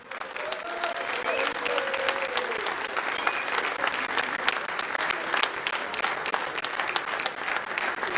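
Crowd applause at a boxing Q&A event as fighters are welcomed onstage: continuous, even clapping from a large audience, heard from some distance with a faint voice over the start.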